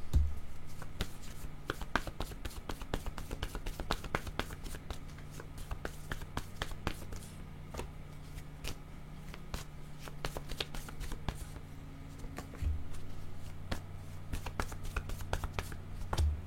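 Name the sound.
shuffling picture and word cards for a card reading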